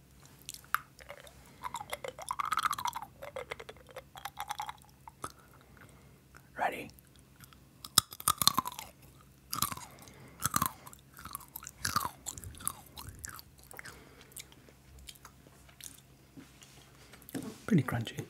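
A crunchy hazelnut is chewed close to the microphone in an ASMR nut-eating session, with soft irregular crunches and squishy bites between quiet whispered speech.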